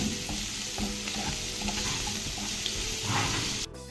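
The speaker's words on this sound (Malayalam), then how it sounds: "നമുക്ക് നന്നായിട്ടൊന്ന് വഴറ്റിയെടുക്കാം നമുക്ക് അര ടീസ്പൂൺ ഉപ്പ് കൂടി ചേർത്ത് കൊടുക്കാം" Onion sautés with salt in a pan, giving a steady, close hiss of frying with repeated scraping stir strokes throughout and no talk.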